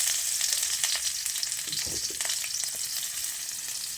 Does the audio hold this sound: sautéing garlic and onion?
yes